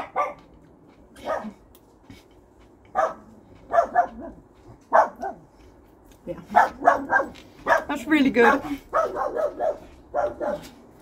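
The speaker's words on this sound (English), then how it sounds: "Barky dog ruining my moment there." A dog barks in short bursts at an allotment garden, several sharp calls scattered through the stretch, mixed with a person's talk over the top.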